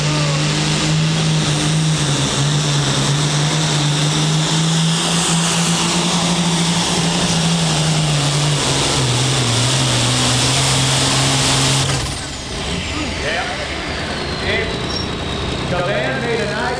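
The Magnum Force pulling tractor from Cedar Bluffs, Nebraska roars loud and steady during a tractor pull, its engine drone holding then dropping in pitch near the end, with a commentator talking over it.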